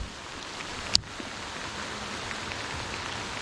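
Heavy rain pours steadily on water and a boat during a bass fishing tournament, a soft continuous hiss with a single sharp knock near the start.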